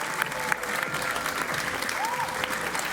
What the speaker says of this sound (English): please have another round of applause for our other runner-up teams